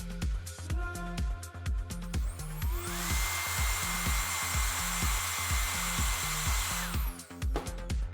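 Hair dryer blow-drying a client's brunette hair, a steady loud blowing roar that holds for several seconds over rhythmic background music.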